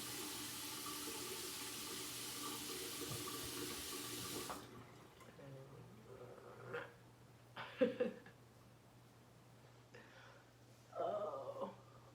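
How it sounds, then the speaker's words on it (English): Hot water pours from a tap in a steady loud rush that cuts off abruptly partway through, followed by quieter handling noises and faint splashes. "You just get the water really, really hot."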